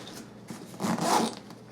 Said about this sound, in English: Go ahead and zip that shut.